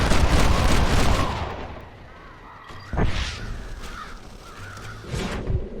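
Crows caw several times in the Red Dead Redemption video game, sharp repeated calls over a noisy outdoor backdrop with thudding gunshot-like bursts in between.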